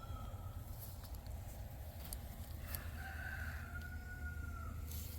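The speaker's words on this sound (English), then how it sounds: "You hear the roosters because it's a beautiful morning." Roosters crow outdoors on a morning at a moderate distance near a garden, a couple of long calls rising over a steady low background hum.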